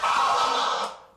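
A single turntable vinyl scratch, a broad, sustained rasping sweep that holds steady for about a second, then fades out, loud and alone with no voices.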